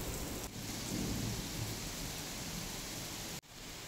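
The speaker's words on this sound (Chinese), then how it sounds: "下完这场大雨，应该会天晴吧？" Heavy rain pours steadily on a rural yard where dogs are kept, with deep thunder rumbling underneath throughout and a brief break in the roar near the end; no one speaks.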